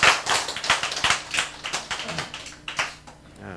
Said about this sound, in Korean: 이번 기회가 박수가 좀 약해.